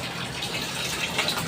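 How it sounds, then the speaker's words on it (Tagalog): Water gushes steadily as it is poured into a fish pan, a continuous, fairly loud splashing rush with no pauses and no talking. "lalagyan na po natin ng tubig yung ating fish pan"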